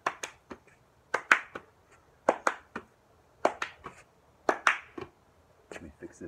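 During a children's ball exercise, crisp hand claps come in quick clusters alongside thumps of a bouncing ball, a close, regular pattern of sharp hits separated by brief quiet gaps.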